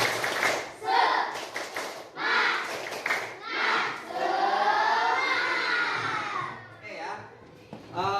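A classroom of children performs a rhythmic spirit-clap routine, chanting loudly in unison with bursts of claps, led by a teacher's voice.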